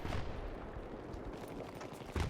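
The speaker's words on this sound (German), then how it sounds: "Oh, jetzt kommt der Mörserschuss zu biegen." Mortar fire in the Battlefield 3 multiplayer video game, heard as a dense, continuous rumble of explosive gunfire with a heavier blast near the end, loud and close with no talking.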